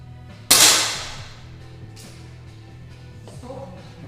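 A single sharp air pistol shot in a shooting final cracks loudly and fades quickly, followed by quiet room murmur and a couple of faint clicks.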